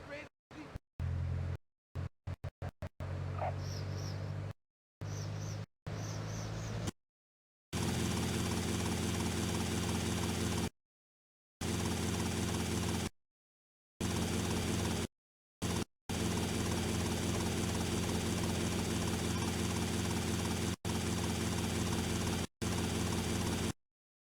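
Helicopter in the video game GTA Vice City, a steady whirring rotor and engine drone that runs loud and continuous, cut by frequent gaps, following an opening stretch of choppy game sounds.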